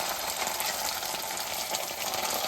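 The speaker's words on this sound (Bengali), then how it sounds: "পেঁয়াজ ভাজা হয়ে গেছে, এখন আদা রসুন বাটা দিয়ে দেবো।" Ginger-garlic paste is added to onions already fried in oil for a home-cooked curry, giving a steady, even sizzle with no talking.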